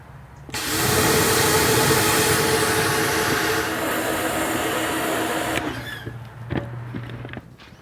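SunJoe electric pressure washer fitted with a 3.0 nozzle runs with a loud steady hissing spray and motor hum for several seconds, then shuts off, leaving a few clicks and a low hum.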